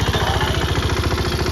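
Mahindra Yuvraj 215 tractor engine running close up, a loud, fast, even diesel clatter with steady rhythmic pulses and no voices.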